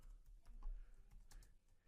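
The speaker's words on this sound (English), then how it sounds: "I'm going to type in" Quiet, rapid tapping on a computer keyboard at a desk, a short run of light keystrokes close to the microphone.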